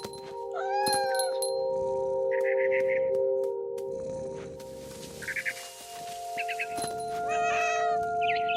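A cat meows and caterwauls in What Remains of Edith Finch, several drawn-out calls in two bursts over steady game ambience with a low hum, fairly close and clear.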